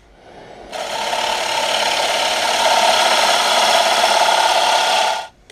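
A wood lathe turning a bowl from green wood, the tool cutting with a steady rasping, whirring hiss that rises abruptly, holds for about four and a half seconds, then stops.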